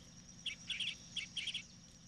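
Woodpecker finch calling, a few short, high, faint chirps in two quick bursts against quiet background hiss.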